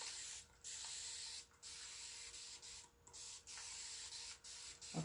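A spray can hisses in a paint pour in several sustained bursts separated by short pauses, close and fairly quiet.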